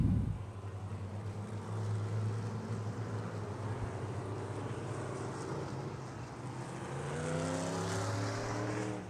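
ASCS Elite non-wing sprint cars roll around a dirt track, a blended engine drone that rises and falls as the pack passes, moderately distant and steady throughout.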